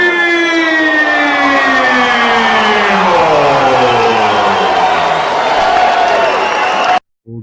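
A crowd at a boxing fighter introduction applauds and cheers loudly as a siren-like wail sweeps downward over the noise, then everything cuts out abruptly.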